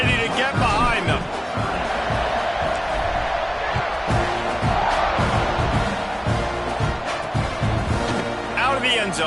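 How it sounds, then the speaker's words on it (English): A stadium crowd in the NCAA 26 college football game roars and cheers steadily around a kickoff, a dense wash of noise under running play-by-play commentary. "this crowd now ready to get behind them"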